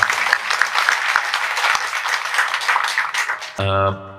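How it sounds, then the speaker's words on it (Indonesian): Audience applause at an interfaith gathering, dense continuous clapping that cuts off abruptly as a voice begins speaking near the end. "Sekali lagi boleh tepuk tangan buat Rumah Semesta."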